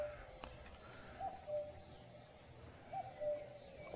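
A cuckoo-like coo repeats twice in S.T.A.L.K.E.R. game ambience, two-note calls spaced about a second and a half apart, moderately loud over a low rumbling background.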